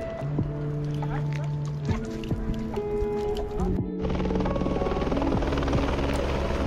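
A loud, continuous helicopter rotor drone close by on the Kedarnath route in the mountains, with a tonal engine whine and speech mixed in, the noise swelling briefly partway through.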